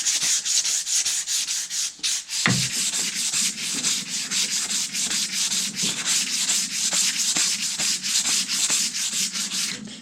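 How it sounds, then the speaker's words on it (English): An axe handle being sanded with 220 grit sandpaper: loud, close, rhythmic back-and-forth rasping strokes repeating steadily, with one brief knock partway through and no talking. "I'm going to take a 220 grit finer and just smooth out a little bit"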